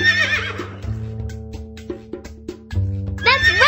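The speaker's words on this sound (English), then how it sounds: "It's a horse!" A horse whinnies in a children's cartoon farm animal quiz. Two loud, shrill neighs come at the start and end of the clip, with steady background music playing underneath.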